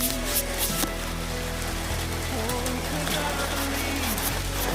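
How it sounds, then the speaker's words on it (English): Light rain starting outdoors at a house during exterior renovation work, a constant diffuse patter and hiss with scattered sharper drop taps and faint background rumble, steady throughout. "as y'all can see, it's starting to rain"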